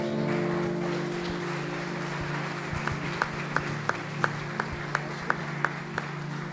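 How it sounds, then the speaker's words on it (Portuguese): A church congregation breaks into applause, a dense wash of clapping that swells and continues steadily, with a few sharper individual claps standing out near the end over a low hum. "Se você recebe essa palavra, aplauda o Senhor"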